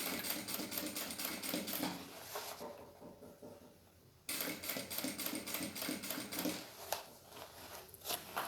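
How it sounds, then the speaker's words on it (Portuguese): A sewing machine stitches a seam at a slow pace, its rapid needle clatter running close and steady apart from one brief pause midway, with no voices. "vou passando essa costura devagar"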